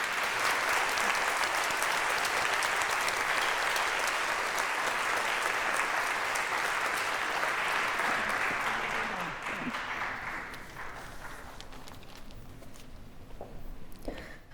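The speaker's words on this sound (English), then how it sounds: "Can we have a huge round of applause for all the panelists?" Audience at an opening ceremony applauding the panelists, dense sustained clapping from a large crowd that gradually thins and fades toward the end.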